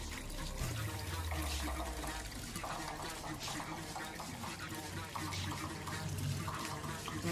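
Water splashes continuously from a swamp filter into a garden pond, a steady close gurgling and pouring, with a person talking over it.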